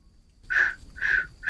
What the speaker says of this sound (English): bird calls